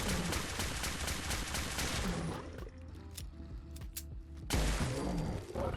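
Rapid Radium pistol gunfire in the Fallout 4 video game, aimed at a Deathclaw: dense, loud volleys of overlapping shots with a short thinner stretch midway, then heavy bursts again, with no talking.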